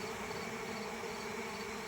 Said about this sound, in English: Boom! I just got covered in bees.